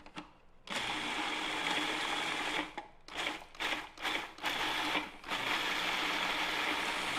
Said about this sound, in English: Get this on the food processor. Just gonna pulse it.